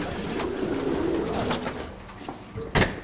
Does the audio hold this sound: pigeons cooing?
yes